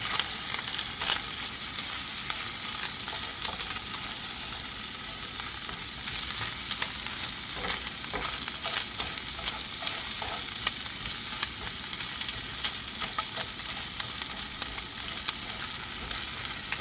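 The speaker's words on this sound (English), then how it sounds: "Just gonna make sure to caramelize these onions a little bit." Onions frying and caramelizing in a pan outdoors, a continuous close sizzle and crackle with occasional faint stirring scrapes, steady throughout with no voices.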